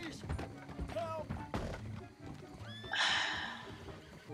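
A horse whinnies within the video game Red Dead Redemption 2, a clear rising neigh near the end over hoof clops and game ambience, with brief talk earlier.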